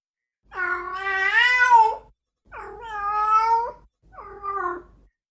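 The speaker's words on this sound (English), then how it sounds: "one can hear female cats going through this some nights outside your window" Female cats in heat caterwaul in three long, wavering, drawn-out yowls, loud and close, each rising and falling in pitch with brief pauses between them.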